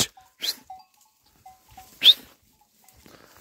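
Sheep in an oak grazing area bleat in a few short, separate calls, one loud and close, others fainter, over an otherwise quiet background.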